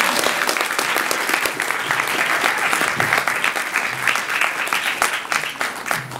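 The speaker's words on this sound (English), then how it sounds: "please do a big round of applause for Nasser Muhammad." Audience applause after a poem at a poetry slam open mic, dense steady clapping from a crowd that fills the whole stretch without pause.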